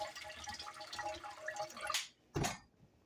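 Running water from a kitchen tap splashing over unsalted pork and pigtail being rinsed, a close, soft flow with small drips, cutting off and then a last brief splash.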